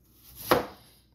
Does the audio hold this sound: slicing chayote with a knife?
yes